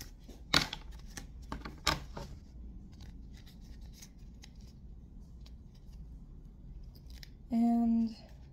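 Scissors cutting a piece, with a couple of crisp, quiet snips near the start, then a stretch of faint room noise and a short steady humming tone at the end.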